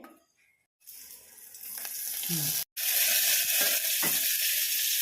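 Green chillies fry in a spoonful of oil in a pan. After a moment of silence, a loud, steady sizzle builds, breaks off briefly, and resumes with occasional stirring scrapes.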